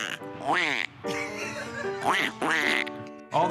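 A handheld duck call blown outdoors gives a run of loud, nasal quacks in three bursts with short pauses between, mimicking mallard ducks.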